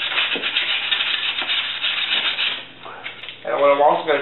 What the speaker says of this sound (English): I'm just going to sand down this rotor here.